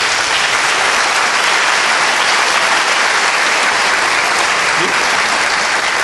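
Loud, steady audience applause fills the hall at a political talk event, a dense wash of clapping from a large crowd held at an even level throughout with no voice on top.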